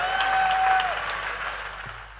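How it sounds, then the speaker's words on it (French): A church congregation claps in unison, a dense, close burst of applause that starts loud and gradually thins out, with a sustained organ or keyboard tone ringing through the start. "Acclamation à Jésus-Christ. Clap offering to Jesus."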